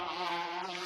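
Bees buzz at a beehive, a steady close insect drone lasting under a second.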